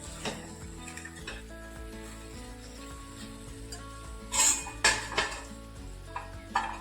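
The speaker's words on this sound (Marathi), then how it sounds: "आपण यात घालतोय पनीरचे जे तळलेले पीस आहेत ते यात घालून घेतोय थोडस खालीवर आपण ही स्लरी मिक्स करून घेणार आहे" Fried paneer pieces are stirred into a sauce slurry in a restaurant-style chilli paneer pan, with a soft sizzle under intermittent metal clinks and scrapes of a utensil against the pan, growing louder toward the end.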